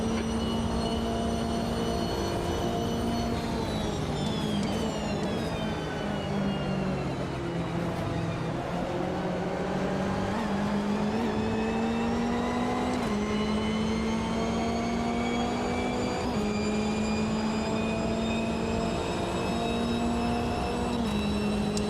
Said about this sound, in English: the noise that I like is the gearbox whine